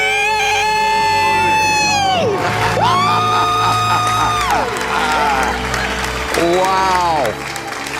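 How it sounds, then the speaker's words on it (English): At a live wealth seminar event, a crowd screams and cheers loudly and continuously for several seconds. A few voices shout over the roar, and applause rises at the end. "Let's hear a debt-free scream."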